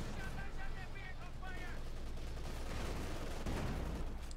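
Bursts of gunfire and machine-gun rattle from the Company of Heroes 2 strategy game sit under a steady battlefield rumble, with a brief whistling tone early on and a heavier impact near the end.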